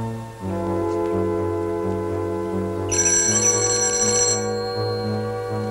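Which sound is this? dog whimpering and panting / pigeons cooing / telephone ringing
telephone ringing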